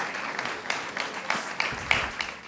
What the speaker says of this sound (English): Put your hands together for them.